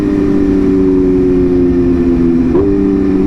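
A BMW M1000RR with a very loud aftermarket exhaust drones close and steady under a heavy engine note, with a brief pitch jump near the end as it downshifts.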